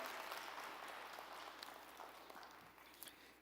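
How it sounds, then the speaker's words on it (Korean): A church congregation applauding to welcome newcomers, a steady spread of clapping from many hands, moderately distant and slowly fading over a few seconds. "여러분께 박수로 환영하시기를 바랍니다"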